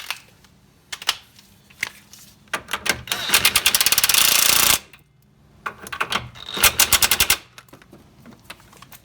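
A 17mm socket on a ratchet tightens a front suspension fastener on a 2013 Hyundai Elantra, with clusters of quick metallic clicks and one long continuous ratcheting burst at close range, with no talking.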